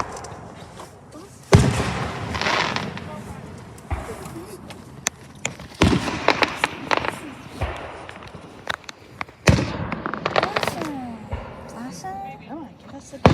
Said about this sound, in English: They don't have that many fireworks.